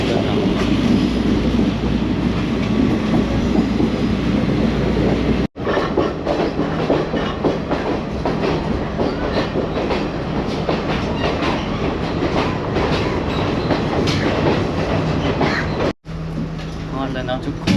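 A second-class passenger train in Sri Lanka rumbles along with steady clickety-clack of wheels on rails and cabin noise, loud and continuous, with people talking over it and two brief dropouts.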